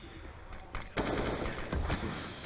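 A loud burst of automatic rifle fire cracks out during a CS:GO esports match on Nuke between G2 Esports and Virtus Pro at the EPICENTER 2017 semi-final, and the rattle continues through the rest of the moment.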